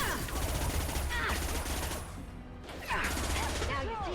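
Rapid bursts of sci-fi gunfire in the video game Mass Effect 2, with a firefight near a cargo conveyor line, loud and dense with sharp impacts and clatter throughout, a brief lull midway before shots resume.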